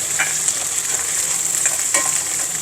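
Garlic and squash sautéing in a pan for pinakbet, a steady close sizzle with a few sharp clinks of a utensil stirring against the pan.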